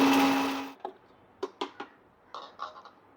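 A mixer grinder jar powders roasted cardamom with a loud, steady whirring burst that cuts off abruptly, followed by a few light knocks and taps.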